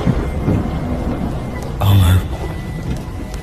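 A thunderclap booms in the middle of a stormy scene for a Bengali horror audio story, set against steady rain hiss and low rumble throughout.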